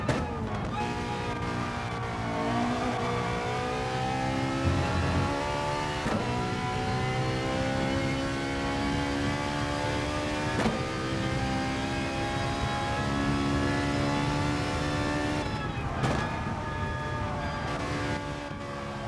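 A Ferrari race car engine in a racing game at Sainte Croix, a loud sustained high-pitched wail rising through gears with brief shift dips, heard alone.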